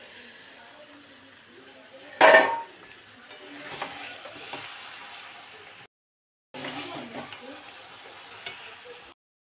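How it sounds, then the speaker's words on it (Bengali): Mango pieces with fennel seeds are stirred and fried in ghee in a pan, giving a soft steady sizzle with scraping stirs and one louder clatter, then a brief silence before the frying resumes. "মৌরি ঘিয়ের ওপরে দিয়েই আমগুলো কষে নেব"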